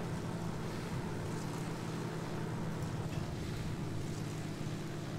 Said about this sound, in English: I love hearing those engines kick up